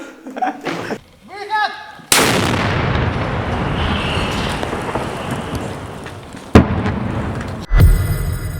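Heavy artillery booms sharply, followed by a long rolling rumble that fades, then further loud blasts; a voice is heard faintly at the start.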